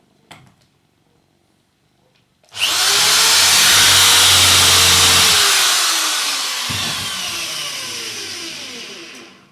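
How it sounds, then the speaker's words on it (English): A power drill starts abruptly and runs loud and steady for several seconds, boring through material, with a brief bump near the end. "I can see this one also needs just a little bit more drilling out"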